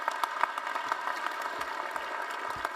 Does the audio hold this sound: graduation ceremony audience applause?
yes